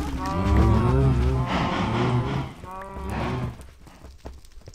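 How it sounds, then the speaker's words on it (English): Several cows in Minecraft moo in long, low, drawn-out calls, overlapping one after another and fading toward the end. "Whoa, cows."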